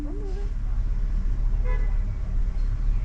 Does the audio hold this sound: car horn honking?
yes